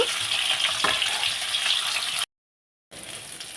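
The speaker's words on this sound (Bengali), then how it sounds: "এইদিকে কিন্তু মাছগুলো লাল লাল করে ভাজা হয়ে গেছে" Fish frying in a pan, a continuous close hiss and sizzle that briefly cuts out, then resumes at a similar level.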